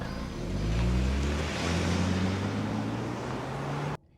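A 2025 Range Rover Evoque launches off the line, engine rising in pitch through a gear change amid road and wind noise, loud and steady before cutting off abruptly.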